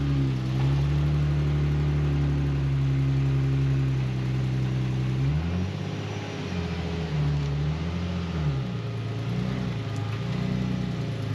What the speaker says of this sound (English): I'm gonna let Chong take it for a little drive